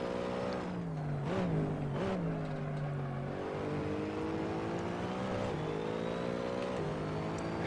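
A car engine in Assetto Corsa, a racing video game, holding a loud, steady drone whose pitch dips and climbs several times as the revs change.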